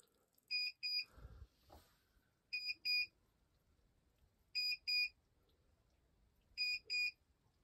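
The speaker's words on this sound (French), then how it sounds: "On a désactivé l'alarme" An alarm sounds after a raclette machine drains a battery, giving paired high electronic beeps repeated four times at roughly two-second intervals, loud and clear over near-silence with a brief thump early on.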